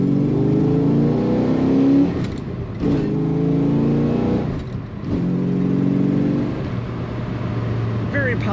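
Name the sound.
1969 Dodge Dart 340 Chrysler V8 engine revving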